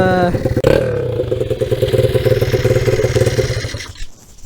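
A motorcycle engine runs steadily after its carburetor has been taken apart and cleaned, a close, loud, even idle with a regular mechanical beat that fades out near the end.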